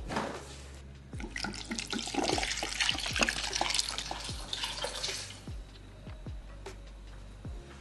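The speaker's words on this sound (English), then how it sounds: "I gotta add some water in here" Water splashes and trickles steadily for several seconds as it is poured into a cooking pot, a sink-like pour with a few dull knocks and clinks, then tapers off near the end.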